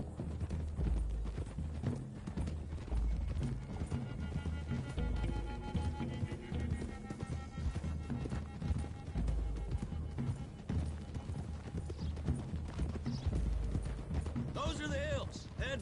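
Several horses clip-clopping along a road, a brisk, continuous patter of hooves at moderate distance, heard under voices and other background sound.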